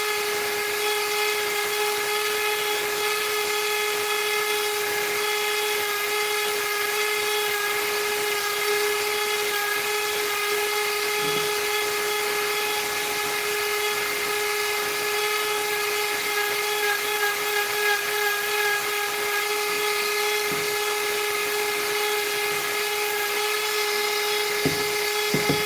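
A Dremel rotary tool carves wood in a continuous high-pitched whine that stays close and loud throughout, with small dips and catches as the bit bites into the piece.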